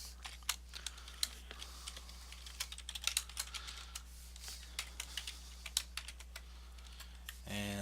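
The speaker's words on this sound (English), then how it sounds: "Just type it." Typing on a computer keyboard at a desk, quick irregular clicks and taps close by, sometimes in short bursts, over a faint steady hum, ending with a louder clatter.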